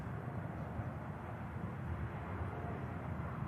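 A jet touches down on the runway at Manchester Airport, heard as a steady, distant low roar of engine rumble with no sharp breaks.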